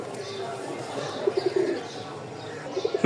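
A pigeon coos in short repeated bursts at close range, soft rounded notes clustered in two groups over low background noise, with a voice talking faintly beneath.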